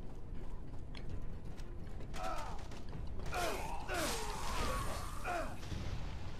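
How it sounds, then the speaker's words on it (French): Gun mechanism in the video game Devil's Third, a run of metallic clicks, ratcheting and creaking mechanical movements, sounding close over a low game background. "On dirait le gun"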